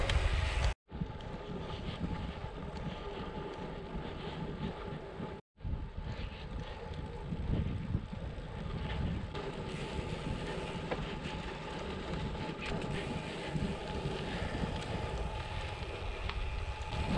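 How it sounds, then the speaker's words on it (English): Strong wind blowing outdoors past live oak trees hung with Spanish moss near a spinning windmill, a steady loud rushing roar with microphone buffeting that runs through the whole stretch, broken by two brief dropouts. "the windmill that is rotating furiously in the wind right now"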